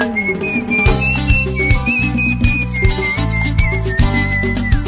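A person whistles a melody over a backing of music with a steady beat, the tune clear and prominent.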